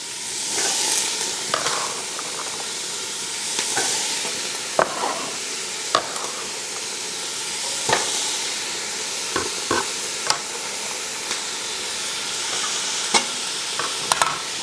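Carrots and celery sauté with garlic in a pot for minestrone soup, giving a steady close sizzle with intermittent stirring scrapes and clinks throughout, no talking.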